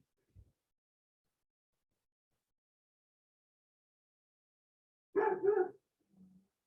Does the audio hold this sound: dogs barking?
yes